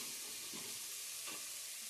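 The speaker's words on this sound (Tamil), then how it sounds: "வந்து உரிச்சு வச்சிருக்க வெங்காயத்தை, பச்சை மிளகா இதெல்லாம் நல்லா கிளறி விடணும்." Onions and green chilies stirred in a hot pan, a continuous faint hiss of frying with a couple of soft scrapes from the spoon.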